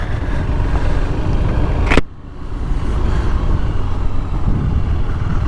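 A KTM RC 390 sport motorcycle being ridden gives a loud, steady engine drone up close. The drone dips sharply for a moment partway through, as at a gear change, then carries on with no talk.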